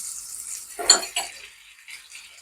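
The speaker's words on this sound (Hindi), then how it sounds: "अब ऑयल के बाद हमने जो 1 चम्मच बटर लिया था वो भी डाल देंगे अब इसमें" A spoonful of butter dropped into a hot oiled pan, a brief hiss and sizzle with a soft clink of the spoon, close and quiet, then fading to faint frying crackle.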